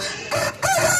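A rooster crows nearby in a short, drawn-out call, clear and moderately loud with no other voices.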